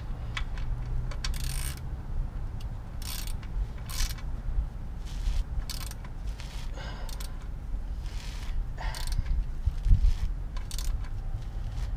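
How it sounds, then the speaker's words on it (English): Bolt being tightened on the underside of a 2018 Ford Focus ST during an oil change: repeated short metallic ratcheting clicks and bursts of mechanical rattling, close and moderately loud, no talking. "Remember to tighten back up this bolt right here."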